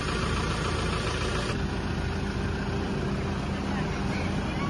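A Hyundai Porter 2 truck engine runs at a steady idle, a continuous low rumble with a constant hum over it, fairly quiet and unbroken.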